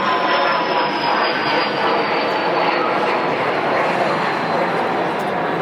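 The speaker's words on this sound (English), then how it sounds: "I'll just wait for this plane to go over." A fixed-wing airplane passes overhead during an outdoor school awards ceremony, a steady broad engine roar that fills the whole span at fairly close range, with no talk over it.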